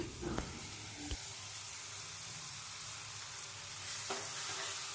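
Ground masala paste frying and stirred in a pan, a faint, steady sizzle with a few soft scrapes and taps of the spoon, close by and quiet.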